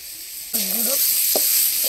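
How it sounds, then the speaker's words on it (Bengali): Potatoes frying in a pan at a Sundarbans village kitchen on a winter night: a steady, close sizzling hiss starts abruptly partway in, with a few soft stirring knocks over it. "আলু ভাজা হচ্ছে"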